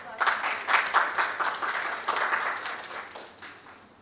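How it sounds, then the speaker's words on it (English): An audience at a tech talk on AWS data integration applauds as a speaker takes the stage, moderately sized clapping with distinct individual claps, building early then gradually fading out. "Please give a big round of applause."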